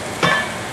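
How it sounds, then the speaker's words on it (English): Onions for a chicken jalfrezi curry hiss in a hot pan in one short burst of sizzling as they are stirred, then settle to a softer frying crackle. "I'm gonna cook these onions on medium until they're soft and nice and translucent"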